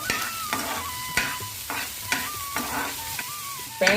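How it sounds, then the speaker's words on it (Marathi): Finely chopped onion sautéing in a pan for a drumstick-leaf vegetable dish, a soft steady sizzle punctuated by regular spoon scrapes about every half second, close by and without speech. "मग हा कटिंग केलेला बारीक चिरलेला कांदा त्यामध्ये ऍड करायचा आणि मग हे जरा परतून घेऊया"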